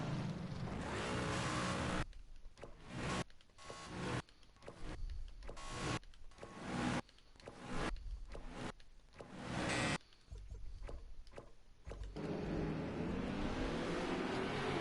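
GT3 race cars in a racing video game on the Nürburgring accelerate away from the start, loud engine roars surging and rising, broken by several brief gaps and shifts as they pull off in a train.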